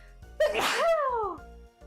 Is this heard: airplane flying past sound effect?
no